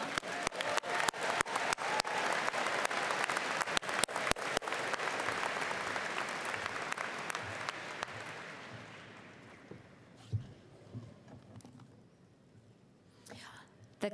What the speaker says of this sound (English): Can we also get a round of applause for him?